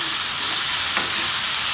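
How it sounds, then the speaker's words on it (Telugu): Cluster beans frying in a pan with gram flour and extra oil over high flame, a steady loud sizzle and hiss with a brief scrape of stirring midway. "శనగపిండి కూడా కొంచెం సేపు ఫ్రై చేసుకోవాలి, లేకపోతే పచ్చివాసన వస్తుంది."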